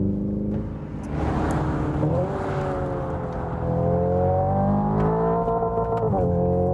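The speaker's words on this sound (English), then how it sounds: "You even get those rally-style pops from the i30N." Simulated engine sound of a Hyundai IONIQ 5 modeled on the i30N, revving up in rising sweeps to a limiter with rally-style exhaust pops crackling over a close, loud drone; no talking.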